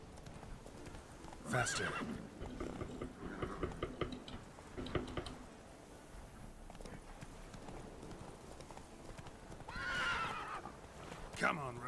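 Hooves of the horse Roach clip-clopping at a gallop in the video game The Witcher 3, with two loud neighs, under a man's short spoken urging.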